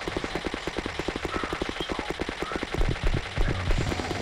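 Rapid gunfire while shooting an enemy in Horrific Valley, a quick run of sharp, evenly spaced shots that grows heavier toward the end and sits under a low game background.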